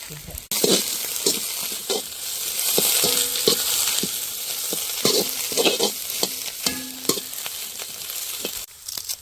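Onions sizzle and are stirred in a hot pan for Jaffna-style kottu, a steady frying hiss broken by repeated scraping and clattering of a utensil against the pan.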